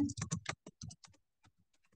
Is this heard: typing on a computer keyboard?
yes